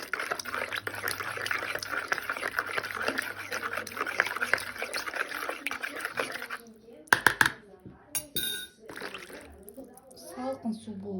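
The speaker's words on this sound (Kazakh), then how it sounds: "Тұзымыз ерігенше араластырып аламыз." Salt stirred into cold water in a bowl for lagman noodle dough: a steady, close scraping and swishing for about seven seconds, then a few sharper clinks and taps of the utensil against the bowl.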